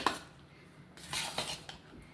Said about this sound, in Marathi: आता हा पाक पूर्णपणे आपल्याला मिक्स करून घ्यायचा आहे ह्या शेवमध्ये